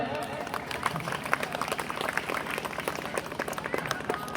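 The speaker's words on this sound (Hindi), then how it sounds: "तनी ताली बजा ली सब है" Audience applause rings out at a Ram katha bhajan gathering as a dense, continuous patter of many hands, while someone speaks over the clapping.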